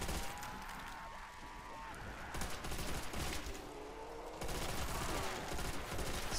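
Gunfire aimed at zombies in a Call of Duty custom zombies map: sustained, loud bursts of rapid shots, with a brief lull partway through before the firing resumes just as heavily, plus in-game effects underneath.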